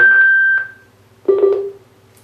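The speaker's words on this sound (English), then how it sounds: "So I'm switching it on right now." An MTV Soundlogic Soundbox portable speaker powers on with two short electronic tones, a bright beep followed by a lower one a moment later, clear and close in a quiet room.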